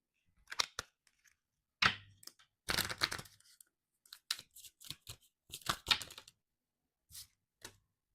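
Tarot cards being shuffled and drawn, a series of close, crisp papery riffles and slaps in irregular bursts separated by near silence, fairly quiet overall.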